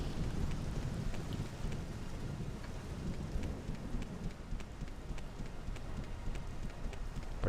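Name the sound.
rain in the video game Morrowind Tamriel Rebuilt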